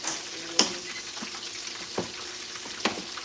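Chicken pieces fry in hot oil with a steady bed of sizzling, punctuated by three sharp pops or spatters spread across the stretch, moderately close and with no talking.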